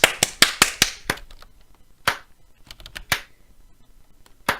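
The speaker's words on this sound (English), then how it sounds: "Everyone clap, everyone clap." A handful of people clap sparsely: a quick run of sharp, close claps, then scattered single claps with gaps of near silence between them.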